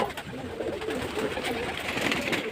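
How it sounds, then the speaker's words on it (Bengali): Pigeons feed in the morning sun, soft cooing and fluttering rising from a flock close by, with light pecking and rustling and no clear voices. "দেখুন পায়রা কেমন খাচ্ছে"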